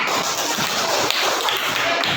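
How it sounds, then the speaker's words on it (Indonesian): Schoolchildren in a classroom clap their hands together, a dense, continuous patter of many close claps for a couple of seconds. "Tepuk tangan."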